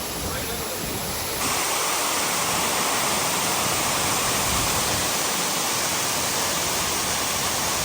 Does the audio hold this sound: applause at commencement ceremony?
no